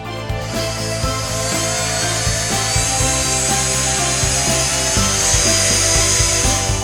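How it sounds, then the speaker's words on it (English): A power drill with a 1/2 inch paddle bit runs steadily, grinding and rasping as it bores through drywall, motor whine constant and loud throughout with no talking. "we're going to use a drill with a 1/2 inch paddle bit"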